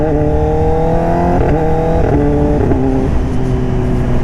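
2024 Kawasaki ZX10R motorcycle with an SC Project exhaust pulling hard through the gears, loud close engine tone climbing in pitch, dropping at each shift, then climbing again.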